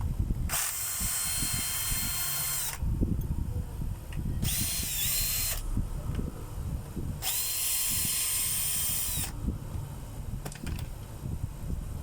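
A power drill works screws out of an electrical switch assembly in three long whirring bursts separated by pauses, with low clatter and handling noise throughout.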